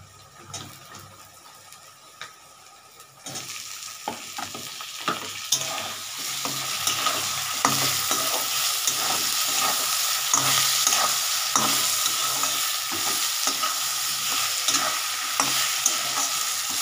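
Chopped tomatoes hit a pan of hot oil and are stirred, with a soft sizzle that turns to a steady, louder frying hiss, broken by repeated close scrapes and clanks of the spoon against the pan.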